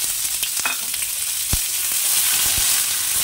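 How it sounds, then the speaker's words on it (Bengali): Chopped onion goes into hot oil with cumin seeds and fries with a loud, close, steady sizzle. Occasional sharp clinks of a spatula stirring against the pan sound throughout. "এবার দিয়ে দিলাম পেঁয়াজ কুচোনোটা।"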